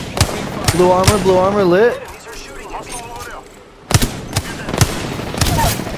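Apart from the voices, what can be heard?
gunfire in video game Apex Legends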